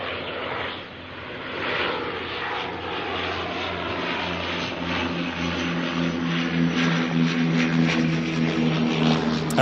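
A Dash 8 turboprop airliner arrives at Auckland Airport, its steady propeller drone loud and sustained with a droning tonal hum that grows slightly stronger toward the end.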